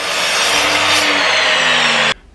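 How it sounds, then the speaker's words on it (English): A miter saw slices through wooden strips for a boot jack, a loud steady whining cut lasting about two seconds before stopping abruptly, with nothing after but a faint tail. "I'm going to cut these strips out on the miter saw"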